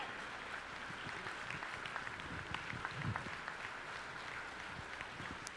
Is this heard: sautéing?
no